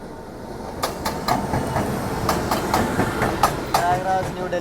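Sairang Rajdhani Express train runs on the rails, heard from inside a first AC coach as a steady rumble with a run of rhythmic wheel clicks and a brief faint squeal near the end.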